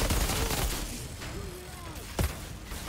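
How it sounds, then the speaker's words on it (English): Grenade blasts and gunfire in the shooter game Outriders boom and rattle in bursts, loud at the start then a sharp blast near the end, with faint voice in the mix. "Dang, those grenades, though."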